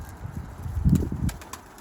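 Pigeons, Mardin birds at a coop, flap their wings in a short burst of soft, fluttering beats that build toward the middle and then fade, close by with no voices.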